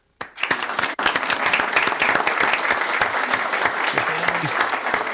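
Loud, sustained applause fills a Utah County Commission public meeting room after a brief silence, with dense clapping continuing to the end.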